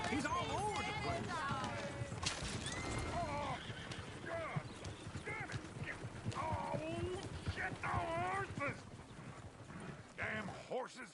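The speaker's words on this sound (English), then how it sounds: "Damn horses!" Horses in a video game clip-clop and whinny with neighs, hooves clattering steadily under almost constant talking voices.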